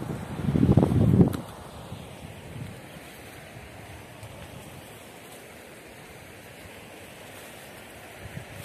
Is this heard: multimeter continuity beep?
no